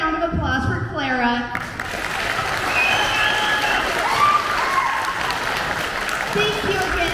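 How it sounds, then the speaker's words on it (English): Theater audience applauding after a performance of The Nutcracker ballet at Rose Street Theater, a dense steady wash of clapping that follows a brief spoken moment and fills the remaining seconds. "applause for Clara."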